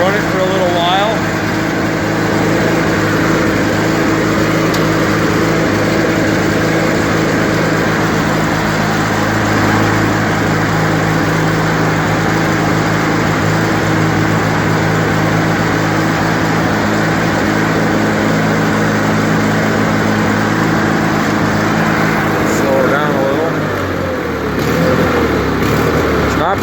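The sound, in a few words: John Deere 316 garden tractor engine running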